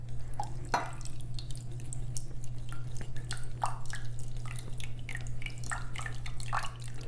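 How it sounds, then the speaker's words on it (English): Mushroom stock trickles gradually into a chawanmushi egg mixture, soft irregular splashes and drips over a steady low kitchen hum, close and fairly quiet. "then we're going to gradually pour in our mushroom stock"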